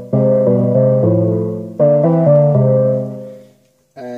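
A clean, dry electric guitar signal passed through an effects-loop splitter plays a few clear, melodic notes and chords up close with no added effects, then rings out and fades before a final chord starts.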